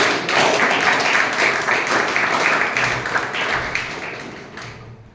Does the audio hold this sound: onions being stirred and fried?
no